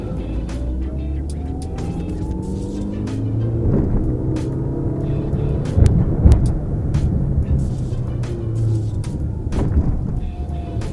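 Mechanical noise inside the cabin of an 11-year-old Maruti Suzuki WagonR with poor insulation while driving: a constant low road and engine rumble with faint whining tones and intermittent knocks and clunks.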